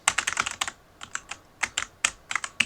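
Arrow keys on a computer keyboard are tapped in quick bursts and single presses, crisp, close plastic clicks with short pauses between groups, alone without any talking.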